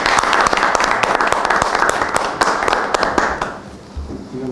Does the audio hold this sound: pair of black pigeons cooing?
no